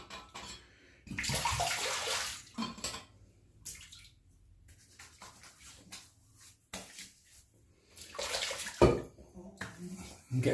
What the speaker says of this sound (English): A little bit of warm water.